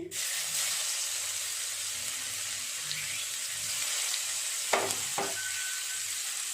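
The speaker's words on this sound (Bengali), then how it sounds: "ভালো করে নেড়ে চেড়ে পেঁয়াজটাকে লাল করে ভেজে নেব।" Chopped onions fry in a pan with a steady, even hiss and sizzle, broken by a couple of brief stirring scrapes toward the end, with no voice heard.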